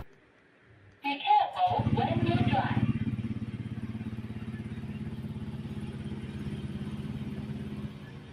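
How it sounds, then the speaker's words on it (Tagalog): A Honda Click V3 motorcycle engine starts with a clattering crank, then settles into a steady, close, rhythmic idle that continues throughout. "So, umaandar yung makina natin kahit walang susi."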